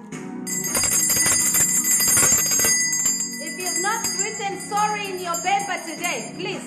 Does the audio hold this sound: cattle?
no